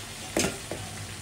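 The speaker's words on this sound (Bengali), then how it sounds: "চিংড়ি মাছ দিয়ে আর ভাজি করলে অনেক স্বাদ লাগে ভাজি করে দিচ্ছি" A shrimp and vegetable bhaji frying in a pan gives a soft steady sizzle with two short louder scraping stirs, close and alone.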